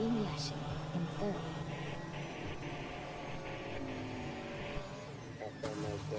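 Race cars roar through the opening of a racing video game, engines droning and revving with tonal whine under steady commentary speech throughout.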